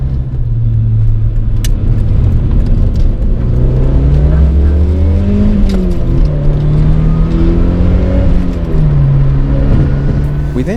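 A turbocharged Mitsubishi 4G63 engine in a Lancer GSR revs loud and close, its pitch rising and falling over several throttle blips with a continuous throaty drone.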